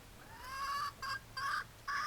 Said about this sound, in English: And the rooster is coming over.